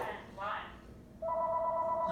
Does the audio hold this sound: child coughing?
no